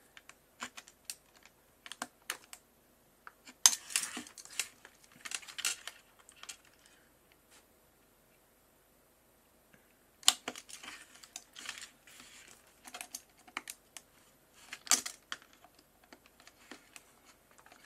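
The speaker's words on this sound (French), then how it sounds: "on va essayer de lui mettre des petits coups de cutter sans chauffer la lame" A craft knife blade is tapped in light, quick strokes against a metal cutting die, producing sparse clusters of faint ticks and clicks with a long quiet gap midway.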